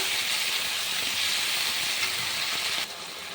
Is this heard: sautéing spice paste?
yes